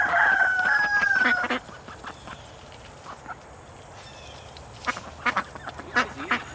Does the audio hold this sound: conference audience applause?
no